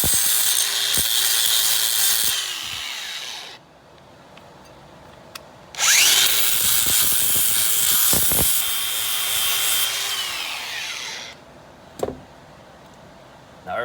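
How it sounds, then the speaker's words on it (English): A grinder fitted with a wire brush cleans parts from a 1994 GMC C3500 throttle body injection rebuild. It runs in two long, loud, harsh whirring bursts, each winding down as it stops, separated by quiet gaps and brief clicks. "I'll use my grinder brush."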